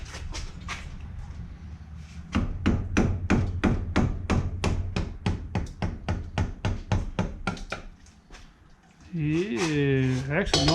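Sledgehammer blows ring out on a Z28 Camaro rear axle during seal and brake repair, a steady run of about twenty loud, evenly spaced metallic strikes, with a person talking briefly at the end.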